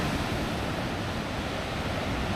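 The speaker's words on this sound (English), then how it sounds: "Look at that water coming through that gap." Ocean waves surge through a rock gap at the Grotto on the Great Ocean Road, a loud, continuous roaring wash of churning water with no talk.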